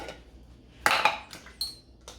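A spoon clinks and scrapes against a bowl while stirring a peanut flour batter, with a few sharp metallic taps and brief scrapes against near-quiet background.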